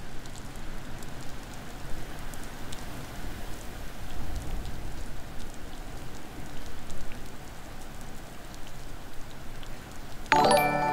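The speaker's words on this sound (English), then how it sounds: "can you guys hear the rain?" Steady rain falls outdoors, a continuous even hiss of drops on surfaces with no talking, holding at moderate level throughout before a short brighter burst at the very end.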